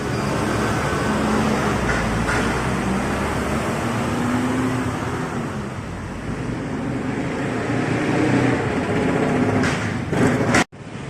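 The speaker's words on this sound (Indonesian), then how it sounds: "Khas banget Hino ya bunyinya." Continuous loud engine rumble and road noise from inside a moving Hino TransJakarta bus pulling away, with a brief clunk near the end.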